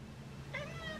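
A pet cat gives a single short meow partway through, heard fairly close over a low steady background hum, with no talking.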